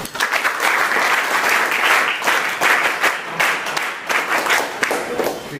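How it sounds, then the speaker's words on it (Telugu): A classroom of students clapping in applause, a dense, loud, sustained burst of many hands with slight swells, cutting off abruptly at the end. "ఓకే. క్లాప్స్."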